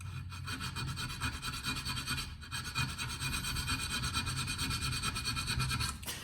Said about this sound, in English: We check that we're filing semi-flat.